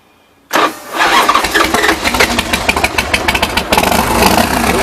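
A 2005 Bourget Big Daddy motorcycle engine cranks and fires after a short silence, then settles into a loud, close, steady idle with a rapid rumbling pulse and no talk.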